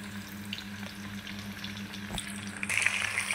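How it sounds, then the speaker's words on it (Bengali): Fish frying in hot oil for crispy Bangladeshi fish fry makes a steady close sizzle with occasional stirring clicks, growing slightly louder toward the end. "দেখতেই পাচ্ছেন খুব সুন্দর করে মাছ ভাজা হচ্ছে।"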